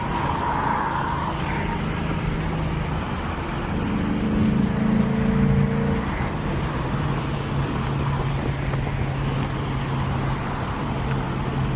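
A car engine roars steadily while driving, a loud sustained drone with shifting pitch as revs rise and settle, mixed with road and wind noise, continuous throughout with no talking.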